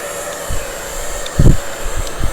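A hair dryer blows a steady, close airflow hiss through the whole stretch while hair is blow-dried, with soft handling bumps and rustles rising briefly in the middle and near the end.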